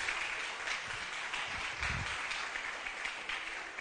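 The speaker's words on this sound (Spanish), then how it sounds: "El que recibe, aplauda fuerte al Señor" Church congregation applauding the Lord strongly, a continuous bright patter of many hands with a few low thumps midway, steady and fairly close.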